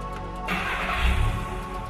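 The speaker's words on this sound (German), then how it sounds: "Schlüssel umdrehen, der Motor startet." A Volkswagen car engine is started with the key: a brief cranking whir, then the engine catches and settles into a steady, close idle hum.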